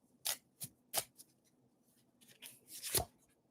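Tarot cards handled and shuffled for a live reading: a few crisp, close papery snaps and riffles spaced apart, with a longer rustling flurry near the end, in an otherwise quiet room.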